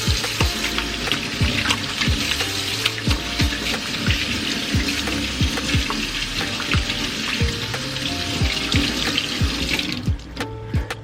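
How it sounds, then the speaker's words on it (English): Tap water runs steadily into a sink while hands are washed beneath it, a close continuous splashing rush with light clatter, cutting off near the end. "Step one when you're making food is to always wash your hands."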